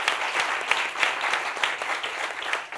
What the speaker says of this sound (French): Applaudissements pour vous-même, chers amis du public.